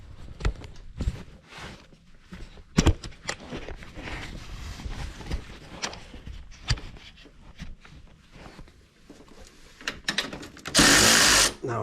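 Tools work on the brake line retainer of a Polaris Sportsman 570 SP ATV during front CV axle replacement, with scattered metallic clicks and knocks, then a brief loud power-tool whir near the end.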